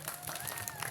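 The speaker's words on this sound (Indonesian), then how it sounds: "kasih aplaus untuk paslon 2" An audience gives a short burst of applause for candidate pair 2 at a school student council (OSIS) election debate. The clapping is dense and steady, heard briefly in a room.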